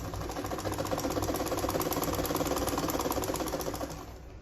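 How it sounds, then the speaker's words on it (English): Close up, a sewing machine runs steadily, stitching the armhole of a sleeveless gown with a fast, even mechanical chatter that holds for about four seconds, then stops abruptly. "So I'm going to sew this down to the end."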